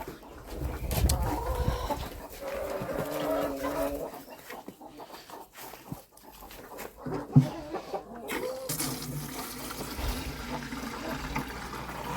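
Roosters and other fowl cluck and call in a farmyard, with scattered bird sounds over a busy outdoor background and a sharp louder call midway.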